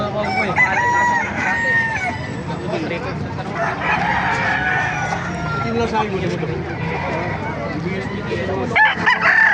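Several roosters crow repeatedly at a rooster market in Baliuag, near and loud, amid clucking fowl and a busy background of people talking.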